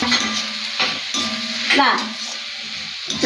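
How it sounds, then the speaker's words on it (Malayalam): A spoon stirs fish masala with turmeric and chili powder in a sizzling pan. Scraping strokes repeat under a steady frying hiss, with brief louder clatters of metal against the pan. "എല്ലാം ഒന്ന് മിക്സ് ചെയ്ത് കൊടുത്ത് ഒന്ന് വഴന്നട്ടെ"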